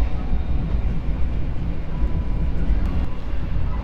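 Manahan passenger train running on double track from Solo, a steady loud low rumble and roar of wheels and wind heard from inside, constant throughout with no voices.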